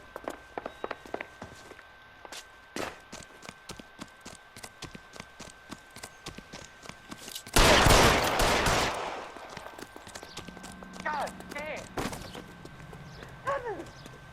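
Gunshots ring out in the video game L.A. Noire, a loud cluster of shots around the middle standing out over rapid clip-clopping footsteps, with a few further sharp cracks later.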